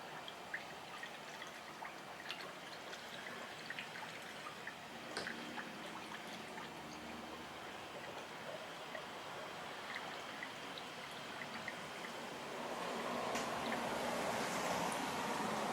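Antifreeze trickles slowly through a funnel into a 1997 Honda VT1100C2 motorcycle, a soft continuous pouring and dribbling sound that swells slightly louder near the end, with no one talking.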